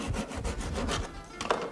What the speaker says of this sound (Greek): Το κόβουμε πλέον τώρα, παίρνουμε το πριόνι μας προσεκτικά